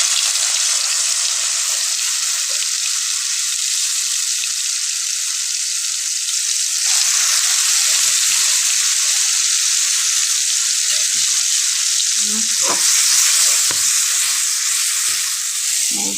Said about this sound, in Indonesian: So kita gungso sik bumbune. Bumbune mau bawang merah bawang putih tok.